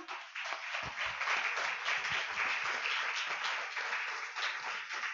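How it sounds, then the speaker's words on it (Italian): An audience at a Naples literary talk applauds the arrival of a guest writer, with steady, dense clapping from many hands that stays loud and continuous throughout, with no talking over it. "vi chiedo un applauso per Giuseppe Montesano."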